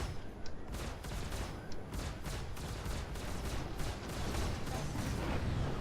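A Mustang Delta spaceship's weapons fire against a Vanduul swarm in Star Citizen, a dense, continuous rattle of rapid shots throughout, loud and close with no pauses.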